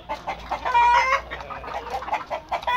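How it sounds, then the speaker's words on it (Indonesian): An Indio Gigante hen clucks in a close, continuous run of short throaty calls, loud and alone without any talk. "satu betina ayam Indio Gigante ya"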